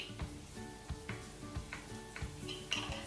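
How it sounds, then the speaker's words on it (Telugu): Lid set down on a pan of egg capsicum fried rice cooking on a low flame: light metallic clinks and taps repeating over soft background sizzling, faint and close. "అండ్ మూత పెట్టేస్తున్నాను"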